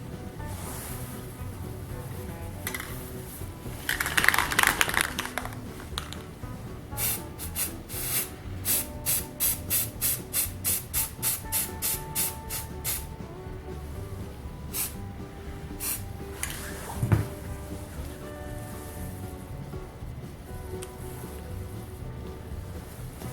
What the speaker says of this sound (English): I'll spray paint it so I get a really good outline of the knife I want.